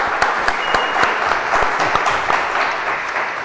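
Audience applause during an anniversary celebration on a local TV studio program: dense, close clapping with sharp individual claps standing out, sustained throughout with no talking.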